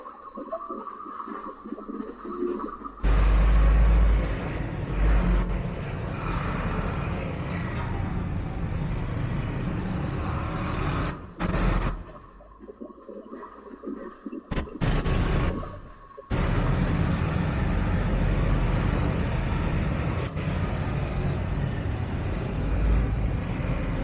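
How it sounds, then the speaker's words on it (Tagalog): Busy nighttime city road traffic on EDSA in Mandaluyong, heard while riding an electric mountain bike: a steady, loud wash of engines and wind noise with a few brief gaps and swells as vehicles pass close by. "Ayan, ganitong oras, pa rin, traffic pa rin."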